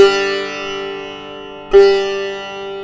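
Two loud plucked Ra strokes on a sitar in Imdad Khani Gharana style, each a bright twangy attack ringing out with a long shimmering sympathetic-string sustain, the second coming after a short gap.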